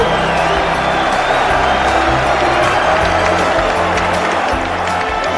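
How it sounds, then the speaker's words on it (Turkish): A boxing arena crowd applauds two heavyweight fighters with dense, continuous clapping and cheering, loud and steady throughout with scattered whoops in the mix. "sizden bu iki ağır siklet savaşçı bir kez daha alkışlamanızı istiyorum"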